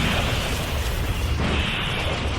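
Dense, continuous rumbling explosions from bombs in the video game Deity, a loud, unbroken wash of blasts with no pauses.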